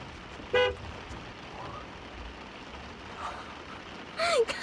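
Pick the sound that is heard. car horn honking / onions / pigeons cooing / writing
car horn honking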